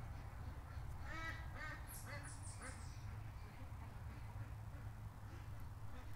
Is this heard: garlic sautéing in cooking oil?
no